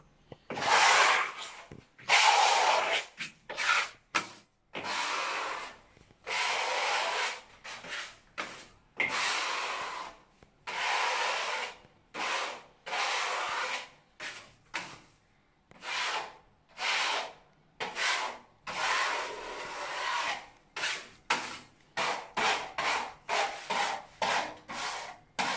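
A steel knife trowel spreads a second coat of decorative wall finish in repeated close rasping strokes, each a short scrape separated by brief pauses, with no talking.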